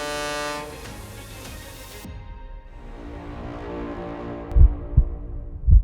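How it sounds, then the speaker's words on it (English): An Australian road train passes on an outback highway, a rising rumbling roar that follows a fading tonal horn-like sound, with heavy low thumps of wind buffeting near the end. "An oncoming Australian road train causes additional air turbulence."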